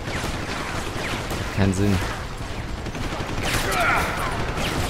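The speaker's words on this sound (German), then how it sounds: "Und jetzt kommt wieder meine Schrotflinte zum Einsatz." A shotgun in Deus Ex: Human Revolution fires in a short, loud burst with a booming low thump, followed by scattered gunfire and someone speaking German over the noise.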